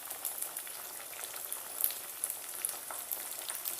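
Lumpia spring rolls frying in hot oil, a steady dense crackle and sizzle close by with scattered small pops, no voices.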